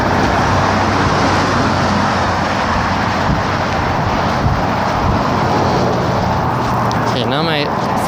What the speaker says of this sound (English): I don't want to walk up next to the cars,